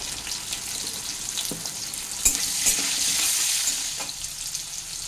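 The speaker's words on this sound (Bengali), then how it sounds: "আলুটাকে লাল করে ভেজে নিচ্ছি।" Potato pieces frying in a pan with salt and turmeric sizzle loudly and steadily, with a few sharp scraping and clinking stirs partway through.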